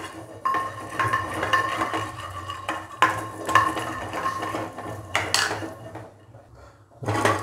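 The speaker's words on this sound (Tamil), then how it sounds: "இப்போ பூண்டு ஒரு 2 நிமிஷம் வந்து பூண்டை வந்து நல்லா வதக்குங்க" Garlic is sautéed in a pan for idli podi and stirred with a utensil that scrapes and clanks against the metal, a faint sizzle underneath, close and fairly steady, with no talking.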